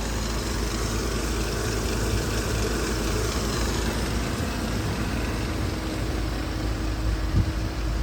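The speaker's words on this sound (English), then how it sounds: "Motor runs flawlessly." A 2013 Chevrolet Silverado regular-cab short-bed truck with a 5.3-liter V8 and 6L80 transmission idles steadily, a loud, even, continuous engine hum with no talking.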